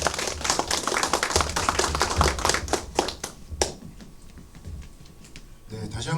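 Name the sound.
audience applause welcoming the speaker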